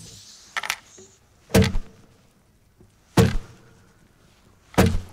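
Muted guitar strings struck as a foley stand-in for gunshots in an animated story, giving four sharp, percussive thunks at roughly even intervals, close and dry with quiet gaps between them.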